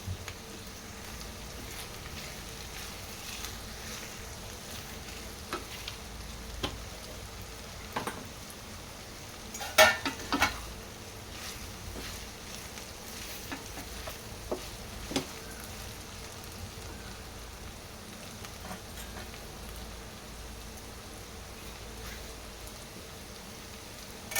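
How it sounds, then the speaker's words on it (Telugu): Okra, onion and curry leaves fry in hot oil for a Telangana-style okra pulusu, giving a low, steady crackle with a few sharper pops and spits partway through, heard alone without talk. "ఇప్పుడు బెండకాయ ఫ్రై అయిపోయింది కదా ఆనియన్ కూడా ఫ్రై అయిపోతుంది ఆయిల్లో కరివేపాకు వేసుకోవాలి"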